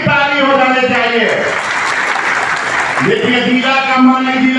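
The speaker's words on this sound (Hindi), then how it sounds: "एक बार जोरदार की ताली हो जानी चाहिए" A political rally crowd in Nalanda district, gathered for leader Chandrashekhar Azad, bursts into loud, dense applause for a couple of seconds, with an amplified speaking voice before and after the clapping.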